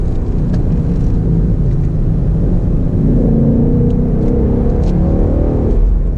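A 2019 Ford Mustang GT PP2 engine-brakes and downshifts on a road course, a loud, steady low engine rumble that swells as the revs climb through the gear changes, with no talking.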